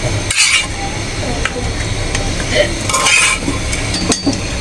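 Fish head going into a pot of sour curry with hog plum, stirred with clinks of utensil against metal and a low sizzle of cooking underneath, brief scraping bursts recurring throughout with no talk.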